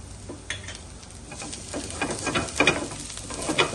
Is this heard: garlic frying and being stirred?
yes